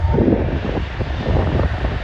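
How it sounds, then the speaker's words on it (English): Roaring jet engines of an Airbus A320 airliner taking off at Schiphol, a steady broad rumble that swells and holds throughout, fairly close and loud. "There's an EasyJet A320 taking off."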